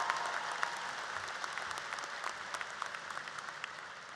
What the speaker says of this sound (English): I want the graduates to clap and thank the folks who helped get you here today.